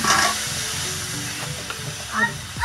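Young jackfruit pieces fry in ghee in a wok, giving a steady sizzle with stirring scrapes and clatters, a few louder bursts and a brief swell near the end.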